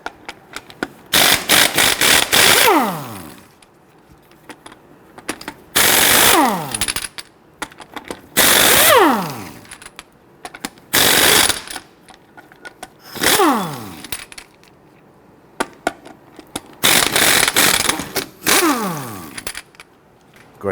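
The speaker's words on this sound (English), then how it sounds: "using a 19mm socket, I want to go ahead and loosen and remove your lug nuts" An impact wrench loosens and removes the lug nuts on a 2006-2010 Hummer H3 rear wheel with a 19mm socket, giving about six loud, close bursts of buzzing hammering separated by pauses.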